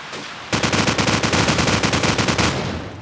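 Rapid automatic SMG fire in a competitive video game match rattles out in a dense, steady burst of evenly spaced shots. It starts abruptly after a short quiet moment, stays loud and close, and runs for over two seconds.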